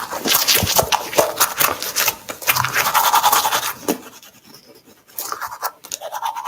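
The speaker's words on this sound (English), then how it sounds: "Brush your teeth." Scratchy, rapid scrubbing of a toothbrush against teeth, close and continuous, with a brief quieter pause before the brushing resumes.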